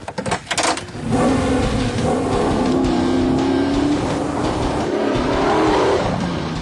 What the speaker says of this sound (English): I drove it fast, but Jim took it to another level